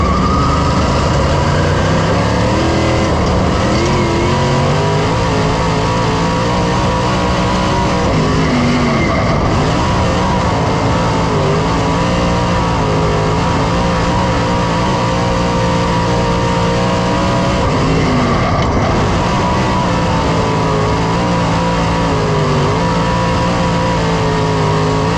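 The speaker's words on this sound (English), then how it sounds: "we're putting some heat in it. It's good to have heat in the engine regardless." Race car engine running continuously as it warms up, a loud sustained drone with small shifts in pitch and no breaks or voices.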